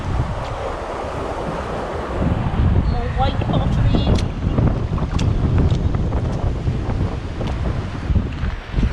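Strong wind buffets the microphone on a riverbank during mudlarking after storms, roaring and gusting continuously with a water-like rush, while a person speaks briefly over it.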